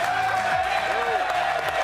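Studio audience applause on a sports talk show, a steady dense patter of many hands filling the room, with a voice speaking over it.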